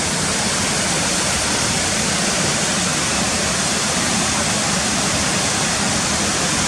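Cotter Force waterfall roars in a steady, dense rush of falling water, loud and unbroken throughout with no voices.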